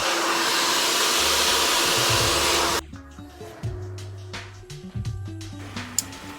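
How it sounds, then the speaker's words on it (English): A hair dryer blows out natural hair at a salon, a loud steady roar for almost three seconds before it cuts off, followed by quieter clicks and handling noises. "we just finished blow drying the hair"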